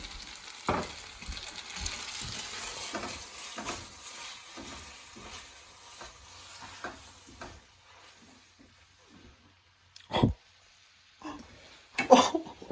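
A healthy knob of butter sizzles as it melts in a frying pan while aglio e olio is cooked, a steady frying hiss that fades toward quiet with a few sharper bursts near the end.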